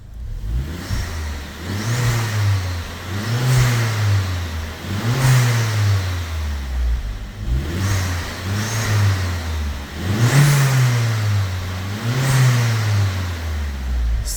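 Vauxhall Corsa VXR Nurburgring Edition with a cat-back exhaust, revved repeatedly in a steady pattern of rising and falling blips, loud and close, with no talk over it.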